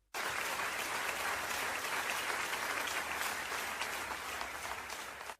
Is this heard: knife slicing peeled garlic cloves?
no